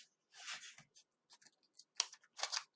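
Origami paper being creased and folded into a triangle shape: close, quiet crinkles and sharp paper rustles in short irregular bursts, with near silence between them.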